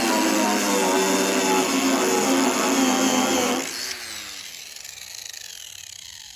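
An angle grinder with a paint-stripping disc works on the hood of a 1977 Chevy Camaro, giving a loud high whine with a rough grinding edge that cuts off, then winds down and fades as the disc spins to a stop.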